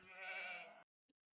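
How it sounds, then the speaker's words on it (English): A single sheep bleat from the Age of Empires II video game, one drawn-out harmonic cry under a second, followed by a faint short click. "We've got a bunch of sheep."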